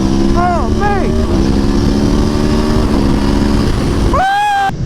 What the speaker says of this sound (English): I like the stock exhaust at speed, like when you get up in the higher RPMs.